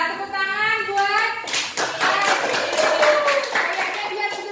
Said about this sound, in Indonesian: Nah, itu ya, tepuk tangan buat.